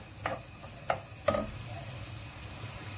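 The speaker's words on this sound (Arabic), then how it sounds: "بقيت كنحرك فيها تقلات مزيان" Chopped onion sizzles softly in a pan while a spoon stirs it, giving three brief scraping taps over a low, steady frying hiss, heard up close with no talk.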